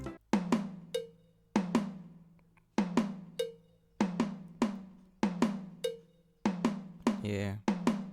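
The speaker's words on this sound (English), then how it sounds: "So this how the drums sound like, these kind of drums, these African vibe drums." An Afrobeat drum loop built in FL Studio plays alone: punchy, evenly spaced percussive hits with sharp attacks and decaying tails, a tonal blip between, and a brief buzzy roll near the end, repeating in a steady groove.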